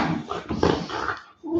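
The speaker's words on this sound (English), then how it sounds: "The dogs are going nuts." Several dogs barking and yelping excitedly indoors at close range, a rapid burst of overlapping barks with a brief pause before they start again.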